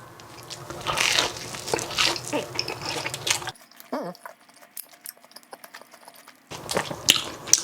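Biting and chewing a Disney three-cheese grilled sandwich gives close, crunchy bites and wet chewing with crackly rustles, then a near-silent pause before the crunching chewing resumes.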